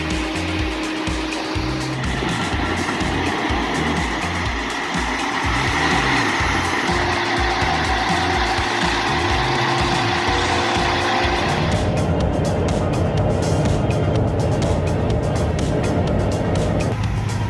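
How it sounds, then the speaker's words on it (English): A heavy-duty log truck with a powerful engine grinds through challenging muddy terrain, its loud continuous motor drone and rumbling drivetrain steady throughout, shifting in tone partway as it labors on. "heavy-duty log truck, with its powerful engine and impressive horsepower, traversing the challenging muddy terrain"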